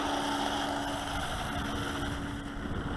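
RLAARLO 4x4 monster RC truck driving at full throttle, its electric motor giving a steady, loud high whine, with rough rumble from the tires and wind buffeting the microphone.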